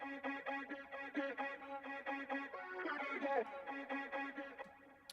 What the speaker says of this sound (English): the vocal chop thing is really busy